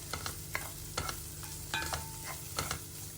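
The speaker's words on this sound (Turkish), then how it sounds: "Çok da aşırı yakmadan şöyle hafif mühürlüyorum soğanları" Onions and garlic lightly searing in a pan with little oil, a soft sizzle broken by regular scraping stirs of a utensil, close and fairly quiet.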